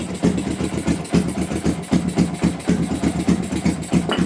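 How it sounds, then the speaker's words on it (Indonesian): A cafe racer project motorcycle engine idles steadily nearby, a low, even throb with a regular pulsing rhythm that holds throughout. "Nah, engine nyala kan? RPM ya."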